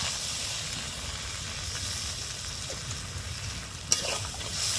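Snails cooking in a spicy curry base with a splash of water sizzle and hiss in a pan as they are stirred and fried down, a steady close crackle with one sharp utensil knock near the end.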